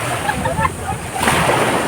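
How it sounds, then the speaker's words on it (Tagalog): Strong ocean waves at a beach resort, a continuous rushing surf and sloshing water close by, with a louder surge toward the end. "Lakas ng alon."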